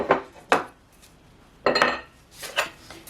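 Dried lemongrass and mint leaves are stirred together in a container, producing a few scattered clinks and scrapes of a utensil with short gaps between them, close and moderately quiet.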